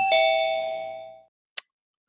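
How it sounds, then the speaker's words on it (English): A single two-tone electronic doorbell chime from a Zoom meeting rings and fades, followed by a short click; otherwise quiet. "Thank you for ringing the doorbell."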